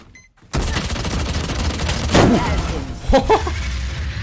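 Vandal rifle fire in the shooter game Valorant comes in loud bursts of rapid shots after a brief quiet start, with dense game ambience around them.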